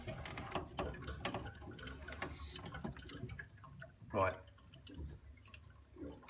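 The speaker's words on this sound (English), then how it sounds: "The boiler's gurgling, and then we're getting water come out." A Vaillant Turbomax 242 combi boiler gurgles and drips as water drains out, with irregular close bubbling and trickling, one louder gurgle near the end, and someone speaking briefly over it.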